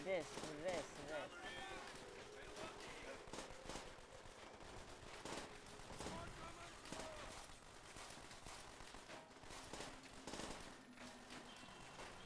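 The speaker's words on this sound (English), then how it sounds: "how many bullets are being fired at us right now?" Heavy World War II gunfire in Call of Duty: World at War, scattered rifle and machine-gun shots cracking sharply over a continuous battlefield din, fairly quiet overall, with a voice talking throughout.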